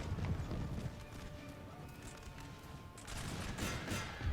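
Cavalry horses of a regiment of horse in Napoleon Total War, during the second battle of Lisbon, clip-clop in a quick galloping rhythm, with scattered musket volleys and battle noise crackling around the hooves.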